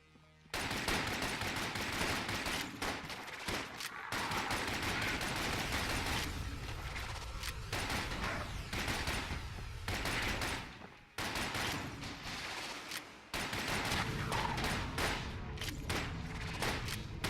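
Dense, continuous gunfire from the twin-stick shooter Enter the Gungeon, rapid bursts and impacts layered almost without pause, loud and busy with only brief gaps.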